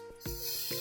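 Brake cleaner sprays onto the brakes of a Kawasaki Ninja 1000SX motorcycle, a loud, close, steady hiss that starts abruptly a quarter second in and runs to the end, with a few brief clicks.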